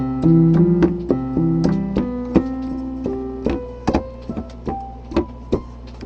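Guitar arpeggio of a 7th chord, single plucked notes rising one after another with a half-step pull between the 7th and the root, slow and evenly spaced, close and alone.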